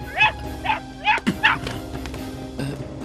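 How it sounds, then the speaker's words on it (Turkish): A dog gives several short, high yipping barks in a quick series, fairly close, followed by a quieter whimper with faint background noise. "Bu köpek sesi buradan mı geliyor?"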